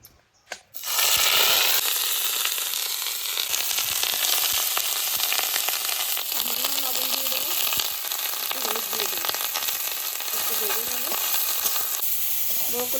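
Broccoli pieces frying in hot oil in a wok, a loud steady sizzle that starts with a burst as they go in and continues with occasional stirring scrapes.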